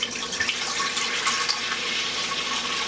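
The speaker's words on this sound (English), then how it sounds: "So you want me to go ahead and pour water in here?" Water pours steadily into a pot while mead is being made, a continuous close splashing fill with no break and no talking over it.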